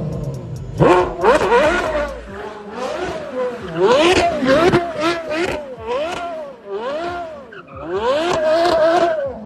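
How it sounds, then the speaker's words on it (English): A Porsche Carrera GT V10 engine revs repeatedly, rising and falling in sharp, high-pitched screaming sweeps, loud and close, with bursts of acceleration between shifts. "That's how the legendary Carrera GT came to be. And let me tell you, it sounds absolutely magnificent"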